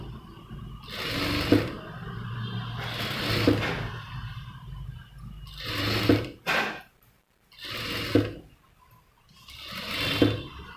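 A sewing machine slowly stitches piping onto a saree blouse in five or six short bursts, with quiet pauses between them. It sounds close and clear, with no voices.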